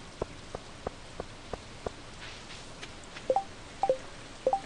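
Steady rain hiss in the Stardew Valley video game, with a quiet soft patter of evenly spaced drops and a few faint bright chirping sound effects near the end.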